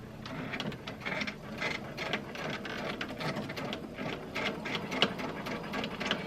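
A sewing machine runs a quarter-inch seam along a placemat's straight edge, its close, rhythmic clatter pulsing in short bursts as it sews and back stitches, with no voices.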